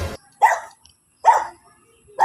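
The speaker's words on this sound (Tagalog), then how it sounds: "Daming aso guys" Dogs barking along a roadside path, heard as a few loud, close barks spaced about a second apart with quiet gaps between them.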